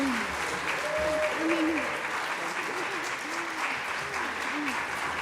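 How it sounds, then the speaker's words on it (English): Applause from the audience at a climate summit: a sustained burst of clapping with brief voices mixed in. "one more big round of applause"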